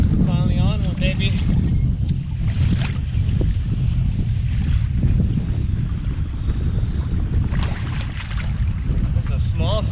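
Strong wind buffeting the microphone while fishing from a boat at Willow Beach, a loud, continuous low rumble with water slapping, and a voice speaking briefly underneath.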